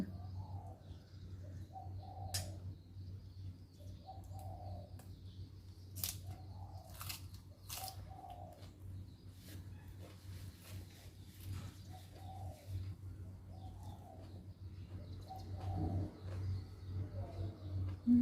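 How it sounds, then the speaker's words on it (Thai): A spotted dove coos in a repeated, soft, rhythmic pattern, several calls at a moderate distance over a low steady hum and occasional clicks. "นกเขาขัน"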